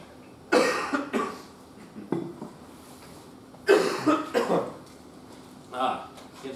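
Several separate coughs and throat-clearing bursts close to the microphone, in two main clusters with quieter gaps between them.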